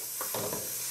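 Tomato sofrito sizzles steadily in a pan while a spoon stirs it a few times, the soft scraping strokes sitting over an even, close frying hiss.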